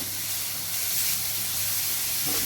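Vegetables for veg momo filling sautéed over a high gas flame, a steady close hiss and sizzle with faint stirring.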